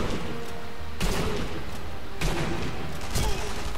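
Sniper rifle fire in the video game Sniper Elite V2 comes as several sharp, loud shots against dense, steady game noise, spaced roughly a second apart.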